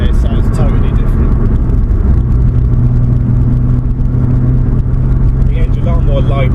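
A Toyota Supra MK-4 with a 1JZ engine idles and runs nearby in a steady, rumbling drone, with people talking over it throughout.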